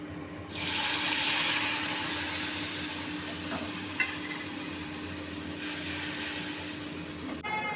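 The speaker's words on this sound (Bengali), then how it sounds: "এগুলোকে একটু তেলে দিয়ে এখন একটু কষিয়ে নেবো" Spice paste of salt, turmeric, green chili paste and Kashmiri chili powder hits hot oil with a sudden loud sizzle that holds steady for several seconds, with a faint scrape midway, then cuts off.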